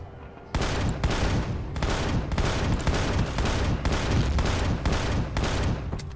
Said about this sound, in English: Sounds like a war zone, all you hear is explosions everywhere.